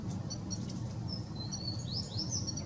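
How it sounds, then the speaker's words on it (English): A white-winged crossbill gives faint, high chirping call notes, a few short beeps early and then rising and falling whistled chips, distant over a steady low rumble of background noise. "So this is a white-winged crossbill."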